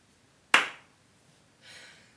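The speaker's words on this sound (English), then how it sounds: "Don't clap as loudly then." A single crisp hand clap sounds close and loud, followed after a pause by a softer, brief rustle in an otherwise quiet room.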